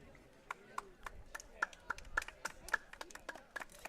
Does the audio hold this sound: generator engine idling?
no